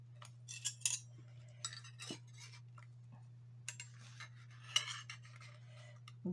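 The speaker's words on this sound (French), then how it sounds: "Et je vais prendre mes couverts." Metal cutlery is picked up and handled, giving light scattered clinks and taps over a steady low hum, close and fairly quiet with no talking.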